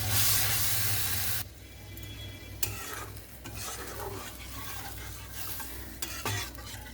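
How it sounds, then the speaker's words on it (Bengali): Spiced masala sizzles and hisses in a pan as half a cup of water goes in, with a loud burst at the start that settles into a steady simmering fizz, punctuated by spoon scrapes and stirring clinks against the pan. "এবার এর মধ্যে আমি 1/2 কাপ জল অ্যাড করে দিচ্ছি।"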